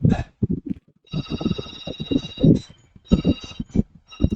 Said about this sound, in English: with my telephone ringing in the background.